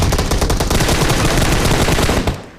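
Rapid automatic gunfire in PUBG Mobile rattles nonstop in a loud, dense burst, then cuts off abruptly near the end.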